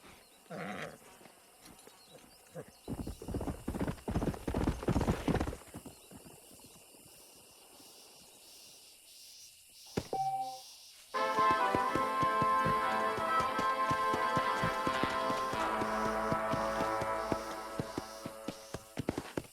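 Hooves clip-clop in the Western game Red Dead Redemption while a wild stallion is handled on a ranch, with bleating livestock nearby and loud game music swelling in the second half.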